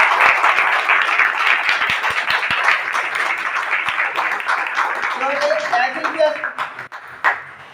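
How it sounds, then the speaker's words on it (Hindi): An audience at a business meeting in Moradabad claps heartily, the dense applause strongest at first and thinning toward the end, with scattered sharp single claps and a voice starting to speak near the close. "ऐसा बिजनेस मैं चाहूंगा एक बार ऐसी पेश के लिए जबरदस्त तालियां।"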